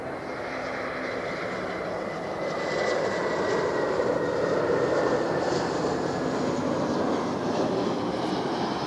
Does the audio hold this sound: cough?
no